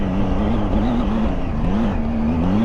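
A Triumph Tiger 800 XCA motorcycle climbs an offroad hill, its engine droning steadily and loud throughout with a rising and falling pitch as the throttle shifts, with no talk over it.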